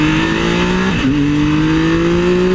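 A Triumph Tiger 1200 XCA motorcycle in sport mode accelerates at full throttle, a steady loud engine drone whose pitch dips briefly at a gear change and then climbs again.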